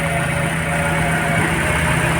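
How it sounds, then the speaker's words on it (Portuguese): A Hyundai ix35 sits in a repair shop with its engine idling, a steady low hum with a faint whine that stays constant and fairly close, with no voices. "O motor tá ligado."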